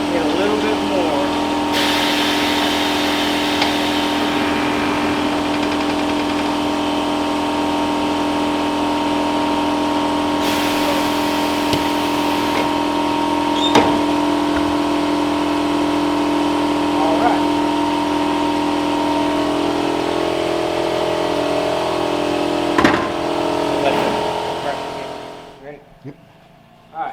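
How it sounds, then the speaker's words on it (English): A tire changer machine works at mounting a tire onto a wheel, on a machine rated for 22-inch wheels, giving a steady mechanical hum and motor drone throughout with a few brief clanks, then cutting off near the end. "This machine is capable of doing 22-inch wheels, the size of the wheel."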